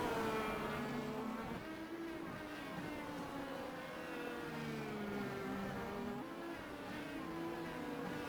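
Race car engines in a racing game at a simulated Detroit Grand Prix on Belle Isle howl past a lapped car, several rising and falling engine notes overlapping steadily and fairly quietly, with no voices.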